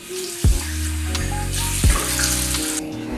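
Tap water splashes as a face is rinsed during a Korean skincare routine, a steady close running stream with two sharp splashing bursts and no talking.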